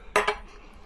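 Silverware being handled, giving two quick bright clinks close by, one right after the other, then quiet.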